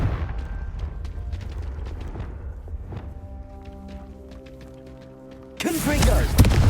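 Confringo fire spell blast in Hogwarts Legacy, a sudden loud burst near the end after low rumbling thuds and a sustained tonal hum, with a voice casting in between.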